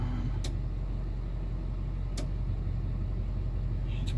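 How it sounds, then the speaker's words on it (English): Diesel truck with an LLY engine and MBRP exhaust idling, a low steady rumble heard from nearby, broken by a couple of brief sharp noises. "You can barely hear the exhaust note."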